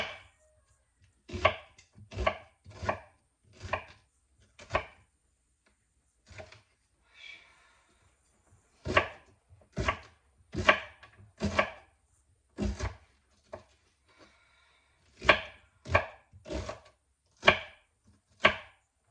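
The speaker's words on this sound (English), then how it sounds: "I wish I knew how to cut onions without this all happening" A knife cuts onions on a cutting board for chicken noodle soup: about twenty crisp, close chops in irregular clusters, with short pauses between them and no voices.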